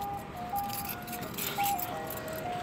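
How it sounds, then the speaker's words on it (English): An ice cream truck parked in front of a house plays a tinkling electronic jingle at moderate level, with the melody running steadily over general outdoor noise and some background activity. "the ice cream truck is in front of the house."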